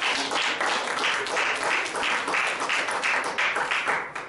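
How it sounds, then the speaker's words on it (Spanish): A church congregation applauds together, a steady, moderately distant patter of many hands clapping with a slight rhythmic pulse for a few seconds. "hermana, aplauda con ella."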